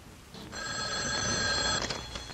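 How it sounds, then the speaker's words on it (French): A telephone rings in a quiet house, a single bright sustained electronic burst that rises out of near silence and fades into soft room noise. "un coup de téléphone brise le silence"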